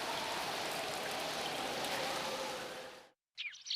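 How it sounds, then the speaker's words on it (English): Steady rain falls in a constant, soft hiss of drops that fades out near the end, followed by a short faint sound after a brief silence. "He can play in a nice warm room while I've been driven out in the rain."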